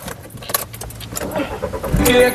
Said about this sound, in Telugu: సింగిల్ సెల్ఫ్లో కార్ స్టార్ట్ అవుతుంది